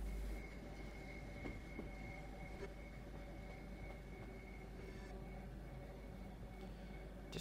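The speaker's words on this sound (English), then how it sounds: "Just gotta wait for the back of the train to go past" A Class 465 electric train runs past on the line between Dartford and Gravesend in a steady, moderately loud rumble of wheels and motors, with faint rail squeal and light clatter running underneath.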